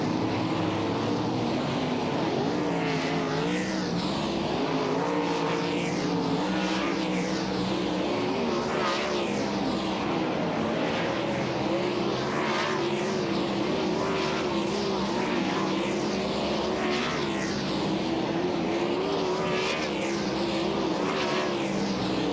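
Sprint cars roaring around Lincoln Speedway during a World of Outlaws practice session, a continuous loud engine drone with repeated swells as cars pass, no talk.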